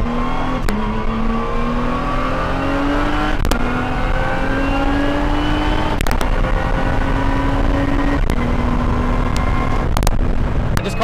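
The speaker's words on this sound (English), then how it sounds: "the car itself is actually quite easy to drive. It's not crazy fast, but it turns in hard." A Lotus race car drives hard on a private race track. The loud engine climbs in pitch again and again through a run of quick upshifts, heard up close and steady throughout.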